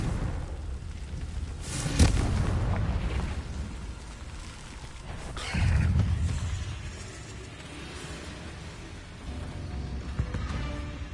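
Blasting-spell explosions in Hogwarts Legacy, a loud burst at two seconds and another near five and a half, each followed by a rumbling, crackling decay under ongoing game sounds.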